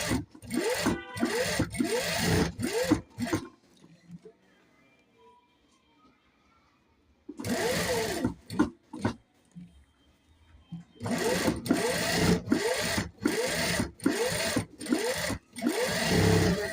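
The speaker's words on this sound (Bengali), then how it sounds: "এখন এই সাইড দিয়ে এভাবে সেলাই করে নিচ্ছি।" Sewing machine stitching around a garment neckline, fast rhythmic mechanical clatter in three bursts separated by quiet pauses where the fabric is repositioned, close and loud.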